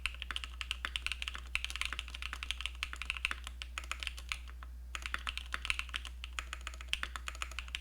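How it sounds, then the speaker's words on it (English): Mechanical keyboard keycaps on a Sirius MX build clatter under steady, rapid typing, close and crisp, with a brief pause near the middle and no talking. "You guys like the sound? Whoops. I don't hate these keycaps."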